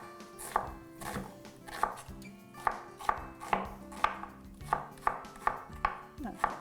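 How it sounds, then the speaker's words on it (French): A knife chops through an onion on a cutting board in a steady run of about a dozen crisp, close thuds at a moderate, even pace. "Couper l'oignon comme ça."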